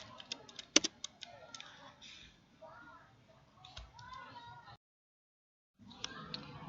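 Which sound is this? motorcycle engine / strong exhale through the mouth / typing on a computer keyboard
typing on a computer keyboard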